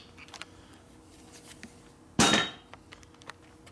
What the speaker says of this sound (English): I need a plastic hammer.